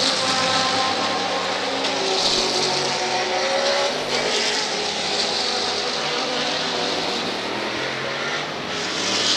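Sports race cars, a Cadillac and a Ferrari, roar past close by during a seaside road race, engines loud and sustained with a continuous high-revving drone throughout.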